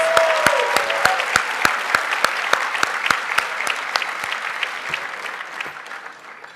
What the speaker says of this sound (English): we have to do a little bit better in our applause for Johnson & Johnson and HP